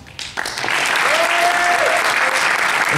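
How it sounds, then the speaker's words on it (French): A crowd at the 2013 Gears of War Judgement Cup final breaks into sustained applause and cheering for a team, building quickly and holding loud, with a presenter's voice faintly underneath. "Allez, on peut les applaudir, les encourager."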